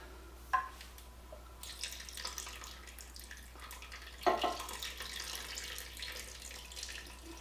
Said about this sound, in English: I'm going to be adding to this 2 cans of beef broth